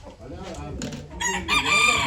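A rooster crows at a poultry auction in Ankara, a loud close call rising at the end, while bidders' voices and crowd chatter continue underneath.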